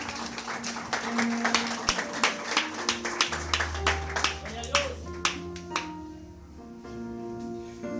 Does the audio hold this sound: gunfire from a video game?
no